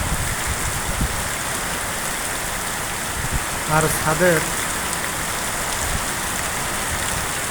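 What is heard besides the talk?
rainstorm with gusty wind swaying trees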